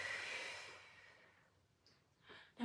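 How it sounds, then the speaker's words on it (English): A soft, steady exhalation during a posture exercise fades out over a couple of seconds, close and quiet, followed by a short sharper breath at the end. "And then exhale."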